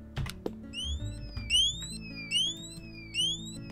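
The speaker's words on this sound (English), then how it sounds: "that's a nice alarm saying, hey, something's going on over here" A repeating electronic alarm in Roblox Lumber Tycoon 2 sounds as a series of four rising chirp bursts in a steady rhythm, moderately loud, preceded by a few clicks and taps.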